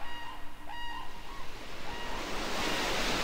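Ocean waves wash onto the seashore in the video game Harvest Moon: Back to Nature, a continuous soft surf hiss that swells toward the end, with a few faint tonal game chimes early on.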